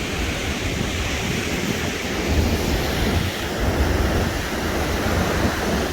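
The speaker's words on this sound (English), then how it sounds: "These waves are awesome." Ocean waves roll and break on a beach along the Pacific coast between Acapulco and Puerto Escondido, a continuous broad roar of surf mixed with wind buffeting the microphone.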